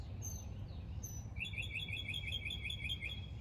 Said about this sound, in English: This bird came right here and decided to start singing.